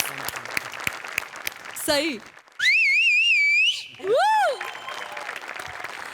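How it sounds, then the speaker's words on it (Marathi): A studio audience at the Maharashtrachi HasyaJatra comedy show claps loudly after a performance. Dense clapping gives way to loud sliding whistles and cheers, then the clapping returns, with a brief voice over it. "क्या बात जोरदार टाळ्या"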